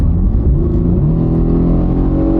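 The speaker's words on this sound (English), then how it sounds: "we're going 45, we'll floor it" A high-mileage Ford Taurus SHO with the EcoBoost V6, a former police pursuit car, pulls hard at full throttle from about 45 mph, its engine drone loud, steady and close throughout, with no talking.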